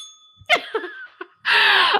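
A small bell rings several times in quick bright dings, then gives way to a louder sustained shimmer near the end, close and clear with no talk.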